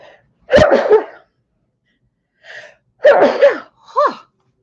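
Several sneezes in quick succession, loud and close, each a sharp burst with a breathy intake, separated by short silences.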